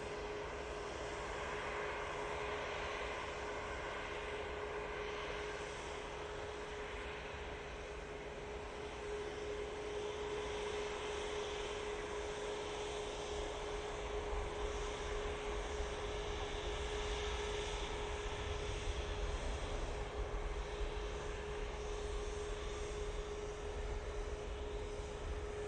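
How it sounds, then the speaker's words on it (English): An Emirates Boeing 777 on short final into Manchester Airport, flaps extended, gives a steady distant jet roar with a constant tone running through it, swelling slightly as it draws nearer, with no talk. "on short final now, we have the Emirates 777"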